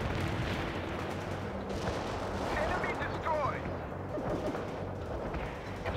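Artillery fire-support barrage in the World in Conflict video game: a dense, continuous roll of heavy booms and rumbling blasts over the full clip, with faint game radio chatter mixed underneath.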